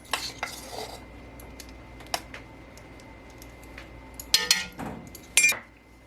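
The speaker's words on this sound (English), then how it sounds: "Get that all stirred up" Cinnamon being stirred into watermelon rind preserves in a pot, with a spoon clinking and scraping against the sides in scattered, uneven bursts, close and fairly quiet.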